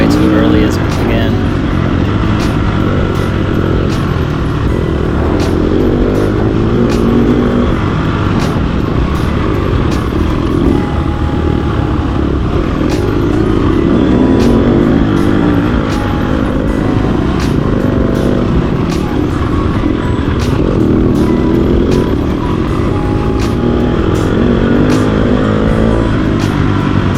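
An off-road racing motorcycle works through a lap, its engine loud and close, revving up and falling back again and again through the turns as the throttle opens and closes.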